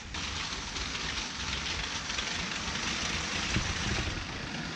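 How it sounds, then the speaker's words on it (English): LEGO trains rumbling over flex track in a large LEGO city layout, a continuous even rattling rumble that holds steady throughout with no talk over it. "so you don't get that rumbly effect as the trains go over top"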